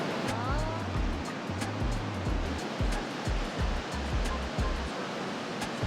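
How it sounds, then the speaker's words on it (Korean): The Rhine Falls waterfall gives off a steady, dense roar of rushing water, continuous and fairly loud, with a low rhythmic pulsing underneath and no voices. "폭포 크기가 장난이 아닙니다."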